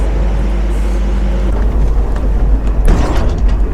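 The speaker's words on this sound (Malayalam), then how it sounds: "ഓ ഭയങ്കര തന്നെ ഹെവി മെഷീൻസ് ആണല്ലോ." Heavy machinery of the funicular railway at Reichenbach Falls in Switzerland hums with a loud, constant low drone, joined by creaks and clanking mechanical bursts near the end, with no talking.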